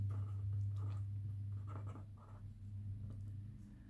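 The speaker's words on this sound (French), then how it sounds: "La part du troisième, je vais l'écrire ici pour avoir de la place." Pen or pencil writing on paper during a maths explanation, a soft scratchy patter of strokes in short bursts over a steady low hum, close and quiet.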